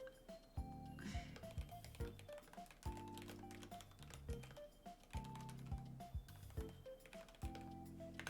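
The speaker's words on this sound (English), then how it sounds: "so I'm typing" Quiet, steady typing on a computer keyboard, with rapid irregular key taps and a few heavier strokes throughout, close and alone without talk.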